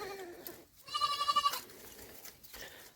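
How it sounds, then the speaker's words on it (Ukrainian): A single short, quavering bleat from a small young goat kid rises briefly over faint background noise at a market, close by. "Друзі, взяли козенят і козу."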